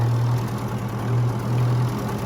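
An old Ford tractor engine runs steadily nearby with the PTO engaged, a loud, continuous low drone with a faint rhythmic pulse and no voices over it.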